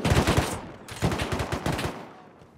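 Rapid automatic gunfire in Rust, loud close bursts of rattling shots that pause briefly and then resume before tailing off, with no talking.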